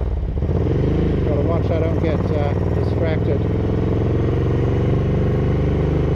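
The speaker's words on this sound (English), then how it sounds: "The sound of the exhaust is terrible." Ducati 900SS bevel-drive motorcycle engine running steadily with throttle held partly open, a loud continuous exhaust drone throughout, with someone talking over it.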